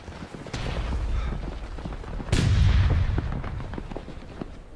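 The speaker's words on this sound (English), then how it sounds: "Firing by volley." Rifle volley fire in a realistic war video game, with a rebel line firing by volley: a sustained, rumbling crackle of massed gunshots, surging louder midway, with no voices.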